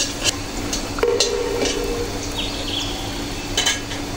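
Chopped garlic sizzles softly in a pan as it fries to a light brown, with scattered clinks and scrapes of a utensil stirring against the pan.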